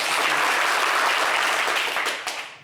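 Dense, loud audience applause at a live talk show taping, filling the whole stretch evenly before tapering slightly at the end.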